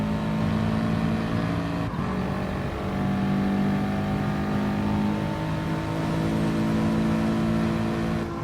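Racing cars lapping the Sardegna track in Gran Turismo, a steady high engine drone with sustained revving tones and cars running side by side, loud and continuous with no pauses.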